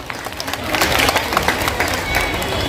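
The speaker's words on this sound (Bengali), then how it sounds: "উৎসাহিত করো হাততালি দিয়ে মেয়েরা" Schoolgirls applaud at a girls' school's annual cultural function, a sustained patter of many hands clapping together in the hall that swells slightly and runs on steadily.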